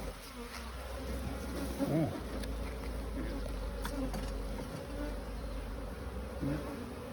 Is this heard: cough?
no